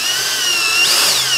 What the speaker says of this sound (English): now all that's left to do is tighten down the final three mount screws